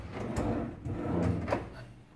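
Drawers in a stylish two-bedroom apartment slide open and shut, with a few soft wooden scrapes and thumps heard close by in a quiet room.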